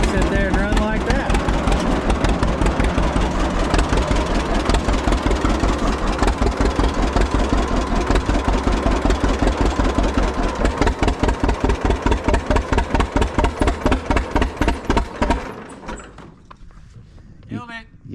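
A 1941 John Deere tractor engine, restarted after sitting silent for 40 years, idles loud and close with a steady rapid chugging pulse, then sputters and dies near the end.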